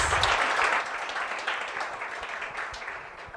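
Church congregation applauding God in praise during a Portuguese-German bilingual sermon, a dense wash of clapping that stays steady and fairly loud, then thins a little toward the end.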